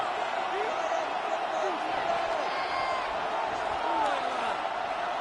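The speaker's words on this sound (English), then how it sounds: "This crowd turning up the decibel level." A large football stadium crowd during a late-game Packers third-and-long, a dense, steady roar with scattered whoops and whistles, loud and continuous throughout.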